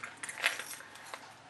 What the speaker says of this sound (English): So this key holder of mine in particular holds my car keys,